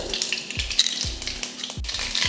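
Mustard seeds and urad dal crackle in hot oil in a kadai, a busy close sizzle with rhythmic low thuds and scraping throughout.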